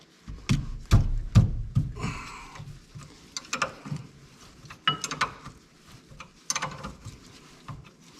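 Caliper bracket bolts come off a Factory Five MkIV Roadster, a string of sharp metallic clicks, ratcheting and clanks in irregular bursts, close and fairly loud with quiet gaps between, no talking.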